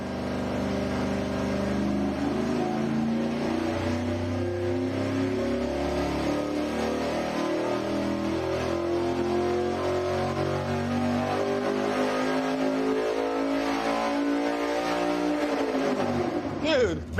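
A loud, naturally aspirated engine of about one thousand horsepower roars steadily and revs under load on a dyno for a long stretch, its pitch climbing before it cuts off sharply at the end.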